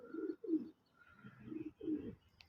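Pigeons in a bird coop cooing close by, several soft throaty, rolling coos in short bursts with brief gaps between, some faint chirps above them and no talk.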